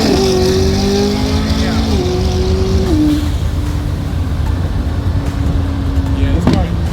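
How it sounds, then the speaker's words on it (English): A supercar's engine revs and pulls hard, a loud droning tone stepping up through the gears in a few rising sweeps, heard from inside the car. "this car is freaking fast, bro"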